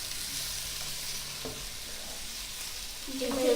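Sausages sizzle in a pan for a casserole, a steady hiss of frying that holds throughout as they are stirred, with a brief utensil scrape near the end.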